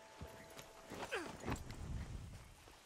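Horse hooves clip-clop at a walking pace in Red Dead Redemption 2, a soft uneven plodding over faint ambient game sound, moderately near.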